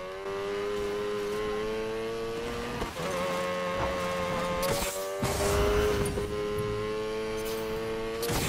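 Mazda RX-7 Spirit R engine in Need for Speed Payback drones at steady high revs through a canyon race, with shifts and a brief surge midway, loud and continuous.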